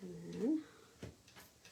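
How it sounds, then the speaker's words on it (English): A brief cat vocalization, a short meow-like call, rises near the start, followed by faint scattered sounds and a quiet voice speaking nearby. "so if you heard something, that was my cat"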